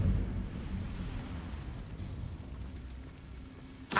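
The Incendio fire spell cast in the video game Hogwarts Legacy during a fight with spiders, a sustained low roaring rumble of flames followed by a sharp burst at the end.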